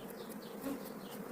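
Honey bees buzzing around an open beehive while a beekeeper tends the colony, a close, steady droning hum with no voices.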